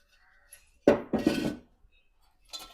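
Aluminium pots for draining cooked rice, at a cookware stall, clink and clatter as they are handled: two sharp metallic knocks close together, then a fainter rattle a moment later.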